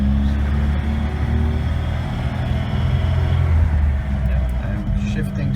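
A 1980 Lada 2101 Zhiguli with a three-speed transmission drives slowly around a building on a sunny day, its engine a steady, loud, close low rumble with road noise throughout.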